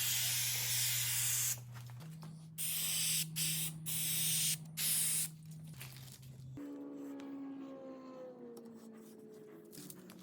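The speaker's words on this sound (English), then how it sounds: "I'm going to Spray this 3M77 adhesive on this and on the cork and stick this together." Several loud hissing bursts of 3M 77 spray adhesive onto wood and cork, short and long, over a steady hum, followed by quieter rustling.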